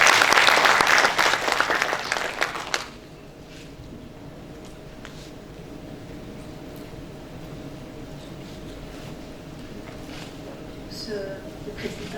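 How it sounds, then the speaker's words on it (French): Applause from an audience at a round-table session on international support for entrepreneurship, loud and dense for about three seconds before cutting off to quiet room tone. "Sur vos applaudissements."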